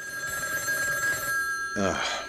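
A telephone rings in a radio studio, its steady electronic bell tone running under continuous talk from a man before he breaks off.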